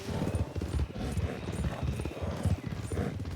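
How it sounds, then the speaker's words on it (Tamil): Horse hooves clip-clopping at a steady trot in the Red Dead Redemption 2 video game, with the horse's heavy breathing mixed in, a continuous rhythmic pattern at moderate volume. "குதிரை மூச்சு வாங்குது"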